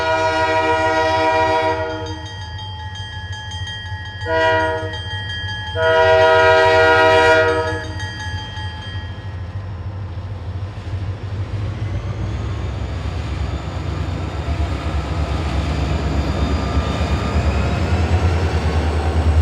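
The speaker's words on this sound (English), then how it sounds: "we caught this Ellis and Eastern train heading toward town" An Ellis and Eastern freight train led by a pair of 1978-built former Canadian National SD40-2W locomotives sounds its horn in long and short blasts, then diesel engines rumble and grow louder as it heads toward town in South Dakota.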